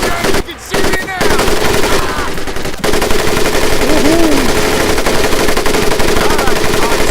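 Rapid bursts of machine gun fire in the World War II shooter Medal of Honor Pacific Assault, loud and sustained with brief pauses, mixed with battle noise and faint shouted voices.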